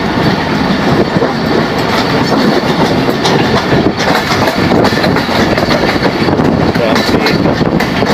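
The Shah Latif Express runs on rails after leaving Malir station, heard from on board as a loud, continuous rumble with rhythmic clickety-clack of wheels over rail joints and occasional metallic squeals.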